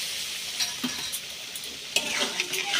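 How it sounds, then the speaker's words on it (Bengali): Masala paste with salt, turmeric and a splash of water sizzles in a pan while a spoon stirs and scrapes it, with a few sharp clinks among the steady hiss. "মশলাটা কষিয়ে নিচ্ছি"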